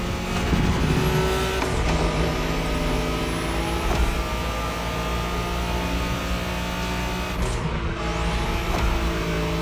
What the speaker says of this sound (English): You're driving Ren's Skyline this time